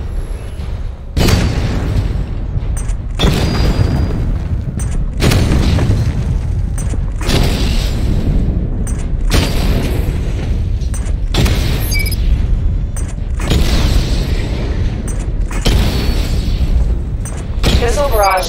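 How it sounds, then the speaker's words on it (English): Missile barrage explosions in the Batman Arkham Knight video game, a series of loud, heavy booms repeating roughly every two seconds, with some voice in the mix. "Charge the missile barrage to level 2 to destroy up to 4 targets at once."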